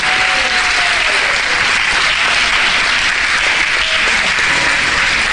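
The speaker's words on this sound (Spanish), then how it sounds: "Le dan un aplauso fuerte al Señor," A church congregation applauds loudly and steadily for the Lord during a sermon, a dense, continuous wash of many hands clapping throughout.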